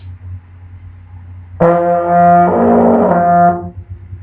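A single sustained trombone note, blown with slightly pinched lips for a tighter tone, enters abruptly and holds for about two seconds, buzzy and bright with strong harmonics, shifting slightly midway before fading out.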